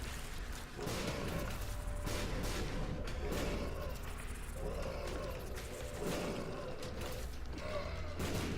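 Video game gunfire, fairly faint and distant, arriving as repeated rapid bursts of rattling shots and booming impacts that come in waves with brief lulls between them.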